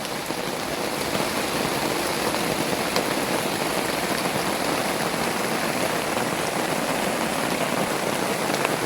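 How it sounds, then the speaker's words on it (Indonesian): Heavy rain pours outside a tent deep in a Kalimantan forest, a dense, unbroken hiss of drops drumming on fabric and foliage that stays loud and steady throughout, with no voices. "soalnya di luar hujan deras"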